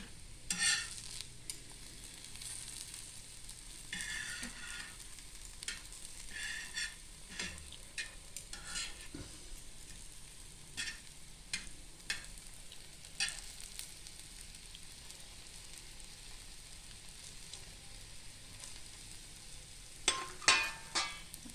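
Ripe banana pieces frying in a pan, a low steady sizzle with scattered soft scrapes and clicks of a utensil turning them, close and fairly quiet throughout.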